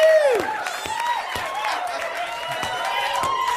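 Applause and scattered cheers from a comedy club audience at a stand-up show, a dense roar of clapping filling the room, loud and close, with a whoop near the start.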